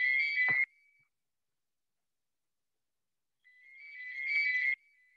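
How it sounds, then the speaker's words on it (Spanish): A home landline telephone rings with two electronic bursts of tone separated by a pause of about three seconds, at moderate volume in an otherwise quiet room. "está llamando al teléfono, voy a apagarlo un segundito."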